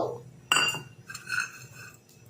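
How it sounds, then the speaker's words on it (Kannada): Black peppercorns spooned into a steel mixer jar give a sharp clinking rattle, one bright burst followed by a few lighter scattered ticks, close by with no talking. "ಒಂದು ಮಿಕ್ಸರ್ ಜಾರ್ಗೆ ಎರಡು ಸ್ಪೂನಷ್ಟು ಕಾಳು ಮೆಣಸು"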